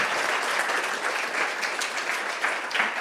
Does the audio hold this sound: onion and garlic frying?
no